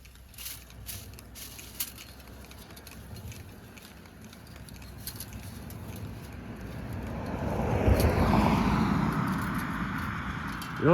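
A car swells in from afar and rushes past on a busy major highway beside a farm field, building to a loud whoosh near the end after a quiet stretch.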